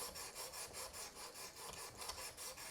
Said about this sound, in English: You can just hear it's refining that edge.